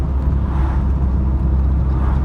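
Car with an 8-valve engine pulling steadily in 4th gear on a country road, a continuous low engine drone with broadband road and wind noise throughout, no speech.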